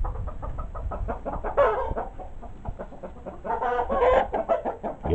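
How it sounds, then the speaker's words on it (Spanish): Chickens clucking repeatedly in short, choppy bursts, fairly close, with a couple of louder squawking calls rising above the steady clucks. "con las gallinas estas"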